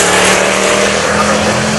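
A twin-turbo Holden Commodore SV8 drag race car roars loud and close in a continuous, full-throttle blast during its pass down the strip.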